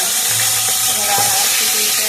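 Pieces of rohu carp frying in a pan, a dense steady hiss and crackle of hot oil, loud and close, with faint clinks and low background sounds.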